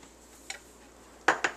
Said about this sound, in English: In a small bowl, mix the breadcrumbs with the Parmesan cheese.